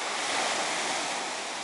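Strong sea waves at a beach in Gazipaşa, Turkey, a continuous broad wash of surf with wind rushing across the microphone, loud and close.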